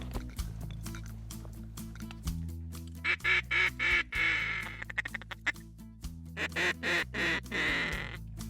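Ducks quack in quick repeated series, loud and close, over a still outdoor background.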